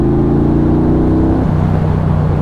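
A Triumph Bonneville Bobber motorcycle pulls hard at full throttle in third gear, its loud, close engine note rising steadily, then dropping in pitch partway through as it keeps droning.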